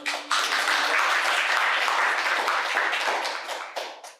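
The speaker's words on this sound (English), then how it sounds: "So a big round of applause." Audience applause at a poetry and music performance, a dense burst of many hands clapping that starts abruptly, holds steady for a few seconds, then thins and tapers off.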